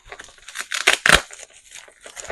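Plastic packets holding vintage jewelry are torn and crinkled open in a few sharp, close crackling rustles that peak in two loud bursts, with no talking.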